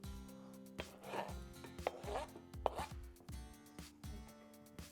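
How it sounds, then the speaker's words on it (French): A kitchen knife chops raw trout fillet into small dice for tartare on a board, a close, steady run of sharp taps in uneven bursts, with no talking. "Maintenant, je la coupe en petits dés."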